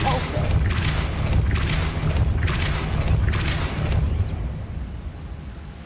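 Depulso force spell cast in Hogwarts Legacy, a deep booming blast that rumbles low under a steady game soundscape, with a few sharp bursts across the stretch.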